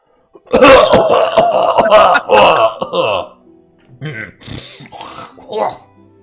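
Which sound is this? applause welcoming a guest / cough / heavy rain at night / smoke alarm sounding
cough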